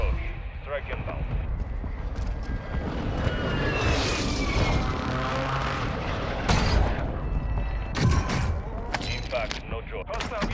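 Air strike explosions in the video game Call of Duty: Modern Warfare II, heavy booming blasts and rumbling over a dense, noisy battlefield mix, with a sharper burst near the middle and radio-style voices talking over it.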